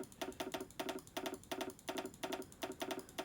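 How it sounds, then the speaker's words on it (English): Repeated mouse clicks during a Hearts of Iron IV session, crisp and close, in steady clusters of two or three clicks with brief pauses between them, no voice heard. "I'm going to keep on clicking until I get to a point where it gets to be red."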